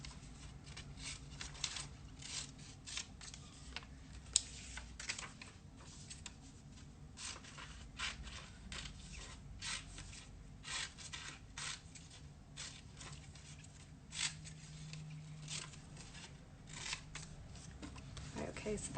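Scissors snip out paper pieces for a collage, a steady run of crisp, close cuts with light paper rustling throughout, fairly quiet with no talking.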